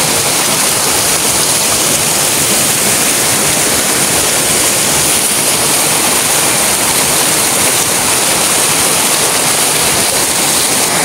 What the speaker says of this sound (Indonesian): ini ada kali besarnya juga